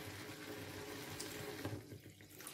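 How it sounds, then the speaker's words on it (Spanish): Water or broth poured into a pan of stuffed squid in sauce, a steady continuous splashing trickle running throughout at close range, with no speech. "Pues le echáis más agua o más caldo."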